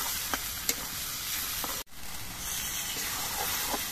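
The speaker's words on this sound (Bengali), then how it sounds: "এবার ছোলার ডাল দিয়ে আরো মিনিট 2 কষিয়ে নেব।" Soaked chana dal cooks in a pan with spices, a steady soft sizzle and hiss marked by light stirring taps, briefly cut off in the middle before resuming.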